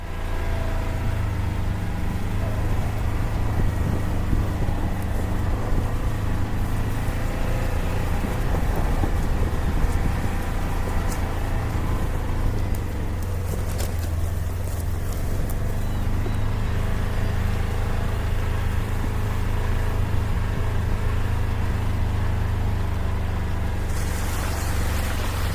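A Polaris Ranger XP 1000 Northstar Trail Boss utility vehicle drives across a lawn, its engine giving a steady, loud low drone with rough rumbling and wind buffeting throughout, and no talking.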